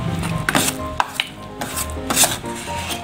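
White cement mixture being stirred for a statue, giving gritty scraping and rubbing strokes with a few sharper knocks, close and fairly loud, with no talk.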